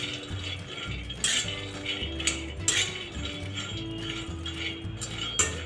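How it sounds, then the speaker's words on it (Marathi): Peanuts stirred in a pan over a low gas flame while roasting for ladoo, with steady scraping and clinking of a spoon against metal and a few louder clatters, close up and without talk. "सतत हलवत राहायचे."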